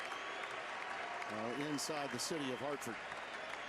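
A crowd at a UConn men's basketball home game against Georgetown, broad steady cheering and applause filling the arena, with a commentator talking over it.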